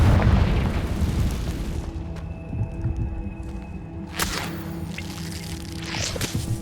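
A Confringo spell explosion in Hogwarts Legacy on the Switch: a loud booming blast that rolls into a fading rumble, then a second sharp burst with crackling debris, close and heavy.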